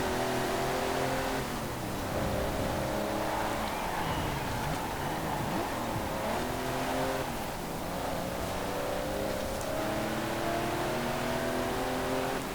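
A muscle car engine in the video game Forza Horizon 4 roars and revs continuously, its pitch climbing and dropping with gear changes, loud and close, with no voices.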